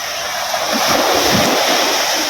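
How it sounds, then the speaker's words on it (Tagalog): Strong ocean surf roars continuously and loudly, a steady wash of crashing water with wind buffeting the microphone. "medyo malakas nga ang alon"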